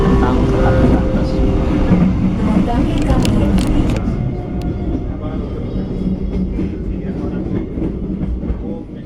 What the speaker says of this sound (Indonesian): kereta api Brantas diberangkatkan dari stasiun Kediri.